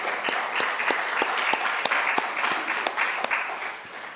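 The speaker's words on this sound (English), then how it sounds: "Nice round of applause for them." Applause from a church congregation, a dense crowd clapping fairly loudly, with individual claps standing out sharply over the steady wash for the whole stretch.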